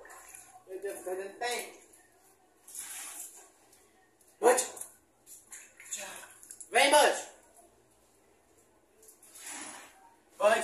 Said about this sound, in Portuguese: O cachorro.